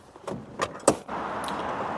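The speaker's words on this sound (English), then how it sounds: "Has it got good door shut sounds?" A 1972 Volkswagen Beetle door with a rather large gap is handled and shut: a few short, sharp clunks and clicks in quick succession, close by, then a quieter hiss of background noise.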